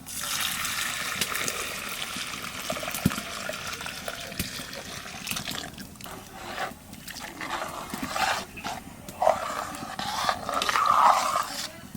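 Reserved cooking water poured back into a pot of lentil dal, a moderate trickling and splashing pour with uneven gurgles that runs on for several seconds.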